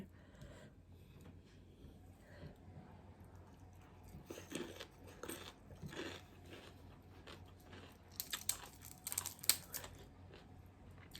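Someone crunches and chews homemade pork rinds close up, with soft irregular bites and crackles spread across a quiet room, a few sharper crunches near the end.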